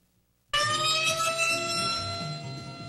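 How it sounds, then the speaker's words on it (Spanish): Ecuador's tsunami and river-flood early-warning alarm siren starts abruptly after a half-second of silence. A loud, steady electronic wail with bright layered harmonics then holds for the rest of the clip. "Esta es la alarma que escucharán cuando haya una alerta."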